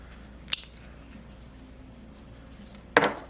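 Two sharp scissor snips cutting a zipper, one early and one near the end, separated by a quiet stretch of faint room hum.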